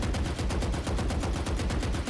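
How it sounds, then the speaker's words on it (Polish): Rapid automatic gunfire rattles on at a shooting training range in a video game, a dense, steady stream of close, loud shots for about two seconds with no voices. "Możemy tutaj poćwiczyć na przykład sobie jak strzelać by zadać jak najwięcej obrażeń"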